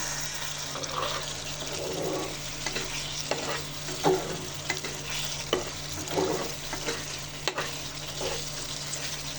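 Dried churi fish (shutki) bhuna cooks in oil in a pan with a soft, steady sizzle, broken by several scraping stirs of a spoon along the pan at uneven intervals.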